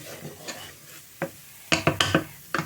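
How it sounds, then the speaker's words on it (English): Onions being stirred in a frying pan on a stove for a chicken curry, giving a soft low sizzle broken by several sharp scraping clatters of the utensil against the pan, bunched toward the end. "you give the onions a stir, to begin with in the frying pan"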